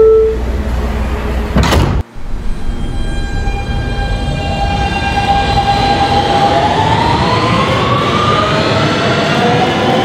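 In a Roblox game, R160B Siemens subway train doors close with a short clatter and thump, then a rising electric motor whine with tonal hum builds steadily as the train pulls away, fairly loud and close.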